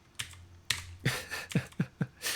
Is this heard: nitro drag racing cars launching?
no